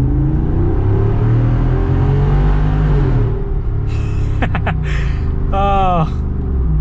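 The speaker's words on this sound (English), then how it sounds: "giving you the cool tunnel sounds of the 392" A Jeep Wrangler 392 V8 rumbles and revs loudly inside a tunnel, with a deep, continuous, echoing drone that swells and shifts pitch as it downshifts, and sharp whining tones near the end.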